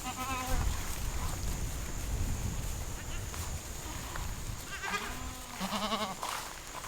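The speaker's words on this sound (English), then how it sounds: "let's go check out these meat goats" Meat goats bleat several times in a barn, the calls wavering and fairly close, with people talking between and over them.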